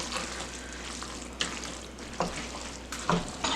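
Goulash being stirred in a pot over low heat, a steady soft sizzle broken by a few scraping clinks of the spoon against the pot, close and moderately quiet with no voices.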